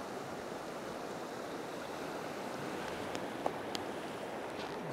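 Fast-moving river water rushes through Cheesman Canyon in a steady broadband wash, close and continuous, with a few faint clicks near the end and no talking.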